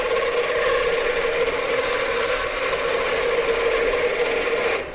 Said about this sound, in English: Now this is more of a scraping operation than a cutting.